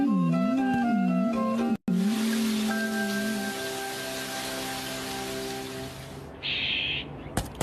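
Cartoon rain in a Hindi-dubbed Shinchan episode: a steady, fairly loud broadband hiss of rainfall follows a few seconds of hooting, owl-like tones and sustained musical notes, then ends with a brief brighter burst.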